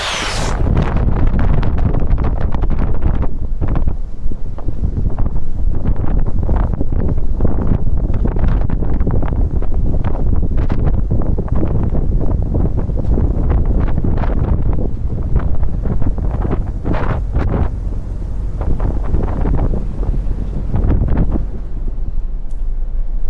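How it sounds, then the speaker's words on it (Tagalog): Strong, gusting wind roars across the microphone outdoors at sea on the Atlantic Ocean in bad weather, a loud continuous buffeting with no talking. "malakas yung hangin sa labas"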